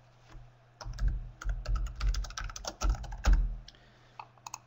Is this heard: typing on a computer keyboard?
yes